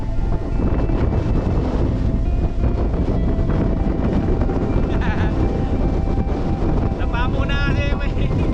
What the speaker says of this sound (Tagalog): Napamo na kasi may malakas na hangin.